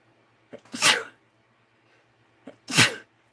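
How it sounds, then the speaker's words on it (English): Two loud, close sneezes, each with a short sharp intake of breath before it, separated by a pause of quiet. "excuse me for sneezing"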